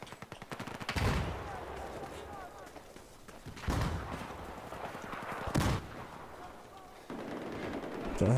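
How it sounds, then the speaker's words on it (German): Automatic gunfire in Battlefield 4 team deathmatch multiplayer: bursts of rapid shots crack from behind the player, with loud volleys near 1, 3.7, 5.6 and 7 seconds over a steady rattle of more distant fire. "Hinter mir wird gefeuert"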